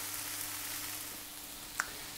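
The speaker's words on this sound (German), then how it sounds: "jetzt rösten wir das Ganze nochmal und den Vorgang wiederholen wir zweimal noch" Ingredients for a dark vegan sauce roast in a pan with a quiet, steady sizzle and crackle, broken by a single sharp click near the end.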